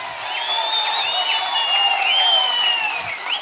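A big crowd at a TDP political rally in Palamaner applauds steadily, with dense clapping and cheering carrying on throughout.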